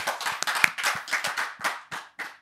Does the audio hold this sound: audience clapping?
yes